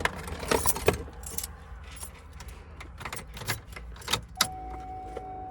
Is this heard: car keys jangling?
yes